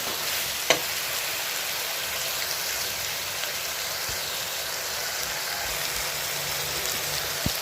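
Steady, dense sizzle of ingredients frying in a pan for goat leg soup, close and continuous, with a faint clink of a utensil near the start and no voices.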